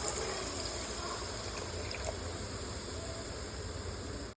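Milk poured into a pan of oil for paneer korma, a soft continuous liquid pour and trickle at low level, ending abruptly, with no speech.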